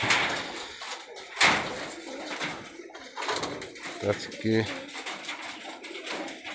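Rajshahi local high-flyer pigeons give a few short, soft coos partway through while someone talks nearby, with scattered handling knocks around them.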